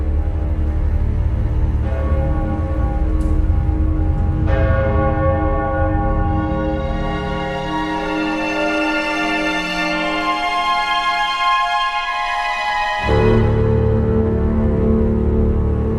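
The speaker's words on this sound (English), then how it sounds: "he's ringing the bells" Church bells ring in the Hunchback film with sustained, overlapping metallic tones that build and hold over a full soundtrack, then shift abruptly near the end.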